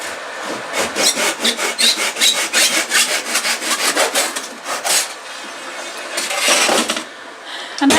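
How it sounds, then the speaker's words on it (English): A Japanese hand saw cutting through a piece of clamped wood, with rapid rhythmic back-and-forth rasping strokes, loud and close, pausing briefly before a final burst of quicker strokes. "the Japanese saw does tend to go through these pieces of wood pretty quickly, and they make a very nice clean cut"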